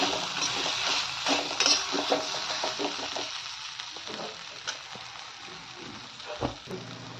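A tomato and green chili thecha with peanut powder is stirred in a pan, a soft sizzle under repeated scraping and clinking of the spoon against the pan, irregular strokes with faint background hiss.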